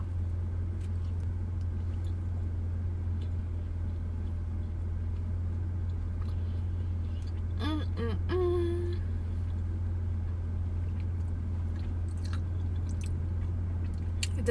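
Someone chews a Starbucks cinnamon raisin bagel close up, soft squishy bites over a constant low hum, with a brief vocal sound midway.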